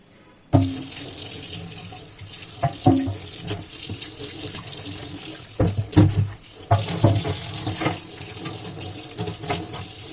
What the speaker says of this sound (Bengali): মাছগুলোকে তিন চারবার করে ভালো করে চটকে চটকে ধুয়ে আর জলটাকে ফেলে দিতে হবে